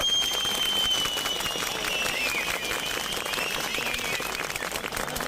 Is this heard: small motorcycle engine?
no